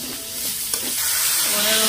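A masala of snail and hog plum curry fries in a pan, giving a steady, close hiss and sizzle with a faint scrape of stirring partway through.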